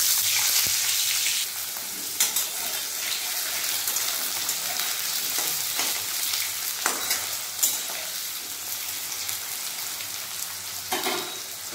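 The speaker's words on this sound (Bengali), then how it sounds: "এরপর আমি আলুগুলো দিয়ে দেবো।" Potatoes fry in hot mustard oil with whole cumin seeds, giving a loud, steady crackling sizzle close by, broken by occasional scraping stirs and no speech.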